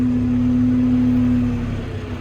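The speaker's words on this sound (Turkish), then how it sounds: "selam vereceğiz diye traktörü boğduk" A TR6 tractor's engine drones steadily at close range with a strong hum on muddy ground, then loses its steady tone partway through as it bogs down and stalls, the sound turning ragged and fading.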